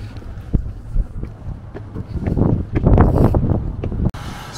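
Wind blows by a green-dyed canal in Indianapolis on Saint Patrick's Day, a low buffeting rumble that swells and gusts louder midway, with faint clicks and knocks, and no one speaking.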